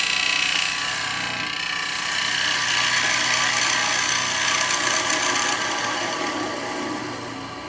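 Traditional woodturning gouges cutting an ash bowl spinning on a lathe, a steady close scraping and hissing of the tool on the wood with a low motor hum underneath, continuous for several seconds without talk.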